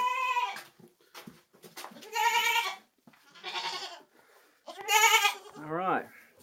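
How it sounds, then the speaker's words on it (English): A goat bleats several times in wavering, quavering cries, close by, with a person talking in between the calls. "Say hi to the goat."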